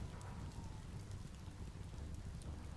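Steady rain hiss in the video game Biomutant, a dense broadband wash with continuous loud patter and low rumble throughout, no voices present.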